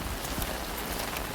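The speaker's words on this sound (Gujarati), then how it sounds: "અત્યારે છે વરસાદ ચાલુ" Heavy, steady rain pours down in a village during a sustained afternoon downpour, a dense continuous hiss close by with no voices.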